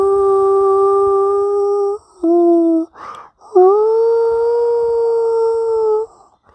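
A dog howls in long, sustained, loud wails from inside its doghouse, broken by a brief higher whimper and a short break before another extended howl.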